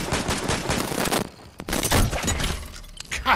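Gunfire from the video game Fortnite crackles in a dense volley, drops to a brief lull with a single sharp crack, then resumes in scattered shots.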